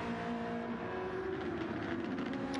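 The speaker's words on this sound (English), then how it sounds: "Honda SF23 Super Formula cars" Honda SF23 Super Formula race cars in a racing game drone with a sustained, fairly loud engine note, its steady pitch lines holding and then shifting slightly, with a hint of tire noise and no voices.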